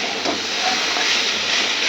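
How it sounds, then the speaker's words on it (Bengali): Something fries in a clean wok with very little oil, giving a steady, close hiss of sizzling that carries on evenly for a couple of seconds without talk. "আর কতটা সুন্দর করে ভাজছি দেখো"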